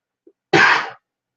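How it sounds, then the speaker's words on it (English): A single sharp throat-clearing cough or sneeze-like burst from a person with a tickle in the throat, close and fairly loud, lasting about half a second after a tiny faint click, with no talk around it. "something's really tickling my throat causing this cough"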